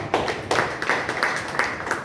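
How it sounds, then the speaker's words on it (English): Scattered applause from a small audience at a Toastmasters club meeting, a handful of claps in uneven bursts at moderate distance, alone without talk. "I think the table topic master as well as the table topic speakers deserve a big round of applause"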